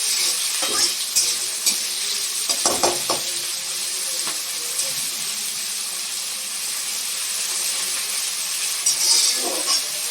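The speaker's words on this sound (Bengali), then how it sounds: "তেলটা গরম হয়ে গেছে, এবার পেঁয়াজগুলো আমি এর মধ্যে দিয়ে দিলাম" Chopped onions dropped into hot oil and fried for a rice-bread pulao, giving a steady close hiss of sizzling with a few sharp crackles and spatters, no talking.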